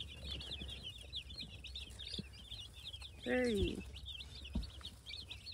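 A crowd of baby chicks peeping nonstop on a homestead, high rapid chirps running throughout at close range, while a voice briefly speaks partway through.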